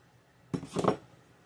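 A knife chops frozen figs for oatmeal pecan fig cookies, giving a short cluster of two or three close, crisp knocks and clinks on a board, alone in a quiet kitchen.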